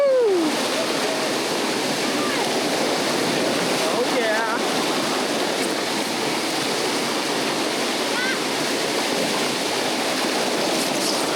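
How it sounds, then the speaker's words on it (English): White water rapids on the Nantahala River roar in a loud, continuous rush of churning water heard from a boat, with excited voices briefly calling out over it. "Now we're getting into some white water"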